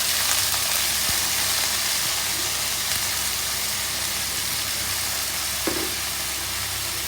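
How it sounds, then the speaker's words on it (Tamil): Chopped onion and green chili frying in a hot pan, a steady dense sizzle close by with a few faint clicks and no talking. "ஸோ இப்போ போட்டு நல்லா ஃப்ரை பண்ணுங்க ஃப்ரெண்ட்ஸ்"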